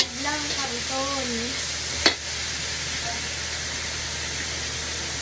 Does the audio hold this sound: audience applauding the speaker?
no